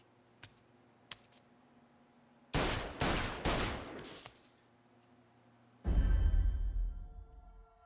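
Gunfire in the Mafia III video game: a few faint single shots, then two bursts of rapid automatic fire and a loud, booming blast near the end, with no talking.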